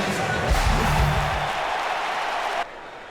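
Arena crowd in Fort Worth cheering and applauding for a wrestler in a WWE 2K game, a broad roar with a louder swell early on that fades under background noise before stopping short.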